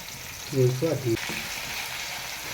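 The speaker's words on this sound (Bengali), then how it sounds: "এখন কাঁচা পেঁয়াজ লঙ্কা ভালোভাবে ভেজে নেওয়া হচ্ছে" Raw onion and green chillies fry in a pan for chicken curry, a steady close sizzle with a brief voiced sound rising over it early on before the frying continues alone.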